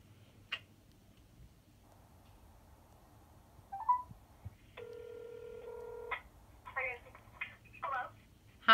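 A phone call on speakerphone gives a short electronic ring tone and beeps between quiet pauses, fairly faint, with brief voice fragments near the end.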